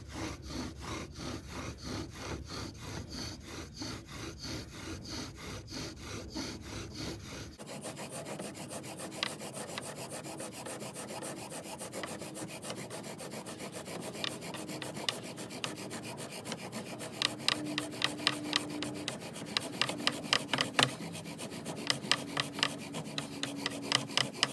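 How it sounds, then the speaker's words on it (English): Rhythmic rasping friction of a wooden bow drill spinning on oak, steady back-and-forth strokes that grow quicker and louder toward the end, close by with no talking. "Using the standing bow drill."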